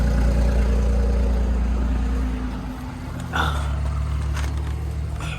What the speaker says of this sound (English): Got a little exhaust note back there.